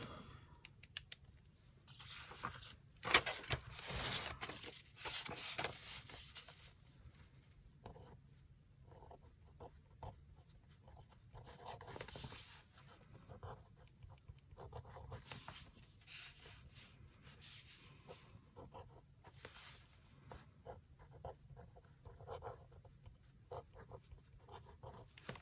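A pen moving across the paper of an art journal, faint scratchy strokes coming in irregular bursts with pauses between them, close up and quiet, with no voice.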